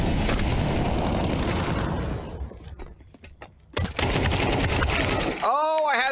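In a tactical shooter video game, a flashbang grenade goes off amid heavy gunfire: loud bursts, a brief lull, then a sharp blast followed by a high ringing tone that warbles and sweeps.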